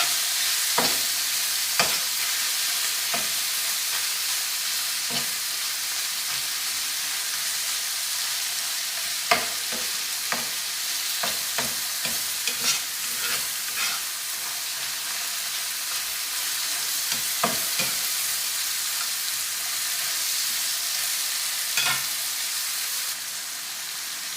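Mushrooms saute in a pan for chicken marsala: a steady close sizzle with repeated scraping stirs and clicks of the utensil at irregular intervals, and no talking.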